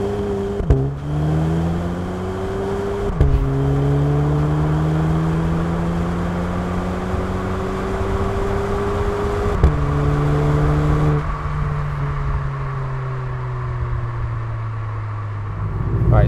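VW Polo GTI (AW) with an APR exhaust in sport mode, engine rising through several sustained revs and gear changes with a deep, throaty exhaust note, close and loud, no talk.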